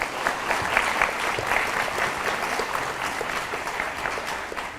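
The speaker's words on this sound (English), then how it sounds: "Would you please give all these folks that are here today a big round of applause?" A crowd at a school work ethic ceremony applauds steadily for about five seconds, a dense, even wash of many hands clapping at moderate distance with no talk over it.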